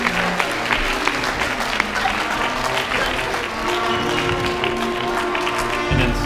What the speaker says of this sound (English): I want you to give yourself a round of applause for making such awesome students.